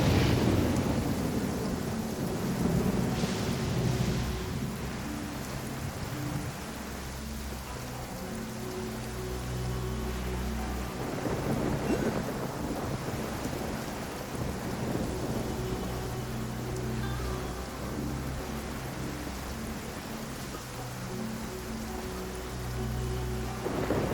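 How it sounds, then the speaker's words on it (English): Steady rain pours down in the video game Genshin Impact, with low rolling thunder rumbling through it and a brief swell of thunder early on; the downpour stays constant and fairly loud with no talking. "It's raining again?"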